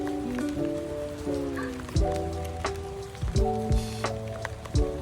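Rain falls steadily on the ground and water during a hurricane, a soft, continuous patter with sustained tonal hums and whines layered over it.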